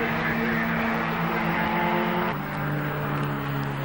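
MG T-type and MGTF racing cars pass at speed during a Silverstone race meeting, their engines making a sustained, loud roar with a shift in pitch midway as they go by.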